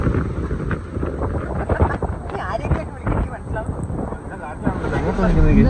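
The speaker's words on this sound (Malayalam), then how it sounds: "നല്ല കാറ്റും." Strong wind blows across misty hills near Tabor hill, buffeting the microphone with a rough, continuous roar while people talk over it.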